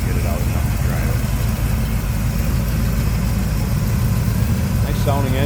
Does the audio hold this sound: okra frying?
no